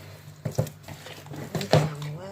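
Chicken being mixed with sunflower oil in a pan for roast chicken: a few close scrapes and clinks of utensil against metal, with soft stirring noises between them.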